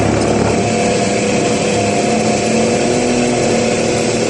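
A Suzuki DR350ES motorcycle engine runs at raised RPM with an electrical load on its regulator, a loud, steady high buzzing drone that holds constant with no voices.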